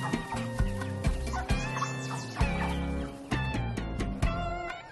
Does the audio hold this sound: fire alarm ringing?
no